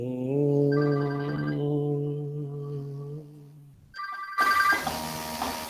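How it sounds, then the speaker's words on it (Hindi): A telephone ringing during an online Sanskrit chant-singing workshop, a sustained harmonic ring tone for several seconds, then a brief pause and a second, brighter burst of electronic ringing with noise, heard alone without talk. "एक आवश्यक फोन आ रहा है"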